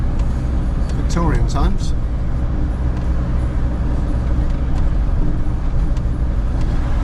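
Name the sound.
cars passing on the road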